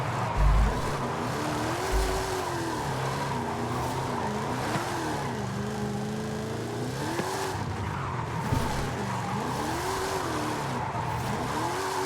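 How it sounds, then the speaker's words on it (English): A 2010 Ford Crown Victoria Police Interceptor in a driving video game drifts around a test track with a steady engine drone and long wavering tire squeals that rise and fall in repeated sweeps. "Let's do a lap or two. And as smooth as anything drift."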